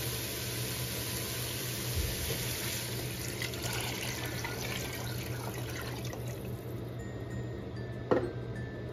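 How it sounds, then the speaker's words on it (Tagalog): Chicken broth pours into a pot of cooked leftover turkey for sopas, a steady liquid trickle and splash over a constant kitchen hum, ending with a brief clunk. "pwede na natin ibuhos yung ating chicken broth"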